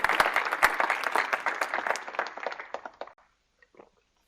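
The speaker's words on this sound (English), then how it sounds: "Also, you can clap." An audience at a Go programming talk claps in a dense, lively burst that thins out and fades to a few scattered claps by around three seconds, followed by near silence.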